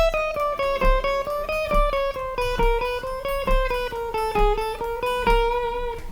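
Sixteenth notes picked on a guitar in fast, even groups of four climb a scale and come back down. The attacks are bright and closely spaced, and the playing is loud and close with no talking.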